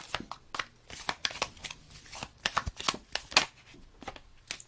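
An Egyptian Gods Oracle card deck is shuffled by hand in a close, crisp series of riffling flutters and soft slaps of cards, with quiet gaps between bursts.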